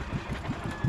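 A boat engine on a Filipino bangka runs steadily nearby, a low chugging idle with uneven knocking pulses through one short stretch.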